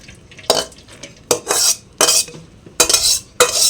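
Boiled banana flower is tipped into a separate pot with metal utensils, producing five loud, close scraping clatters of spoon on pot in an uneven rhythm, with short quiet gaps between them.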